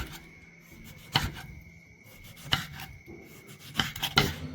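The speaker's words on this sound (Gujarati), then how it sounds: "આજે હું તમને શીખવીશ કે આ જે ગાજર છે એ કેવી રીતના કપાય." A knife cuts carrots for khichdi in a home kitchen, giving three or four sharp, separate chops against a board with quiet rasping between them. The sound is close and faint, and nobody speaks.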